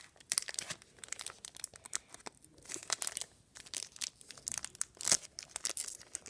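Plastic wrapper of a Pokemon card pack being torn open, a close series of sharp irregular crinkles and tearing bursts with brief pauses between, no talking.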